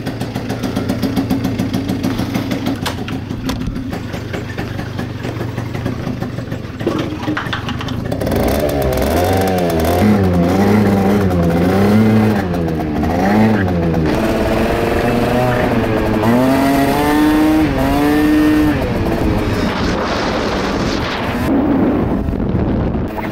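An old MBK Nitro scooter's two-stroke engine runs loud and close, idling roughly at first and then revving up and down repeatedly in rising and falling surges, smoking heavily after a garage repair.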